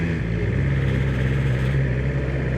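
A 2020 BMW S1000 XR motorcycle engine drones loud and steady close by, a continuous strong mechanical tone without pauses or talking.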